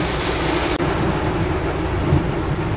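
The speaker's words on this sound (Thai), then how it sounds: "วันนี้ฝนก็ตกหนักเลยนะครับผม" Heavy rain pours down around Imperial Big 4 in Lat Phrao, Bangkok, a loud, dense, continuous roar with a brief dip in the middle and a low rumble beneath.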